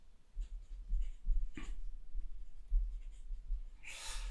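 A pen or marker draws on a piece of paper at close range, producing soft scratchy strokes with a few louder sweeps and a final rough burst of scribbling, over a low hum.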